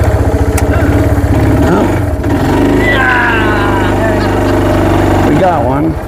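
A quad (ATV) engine runs close and loud with a steady throbbing idle, then rises and falls as it revs. A person makes a brief exclamation over it.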